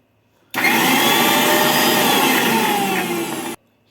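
A mixer grinder whirs through sweet corn kernels, one loud steady grinding burst of about three seconds that starts and stops abruptly, with no talk.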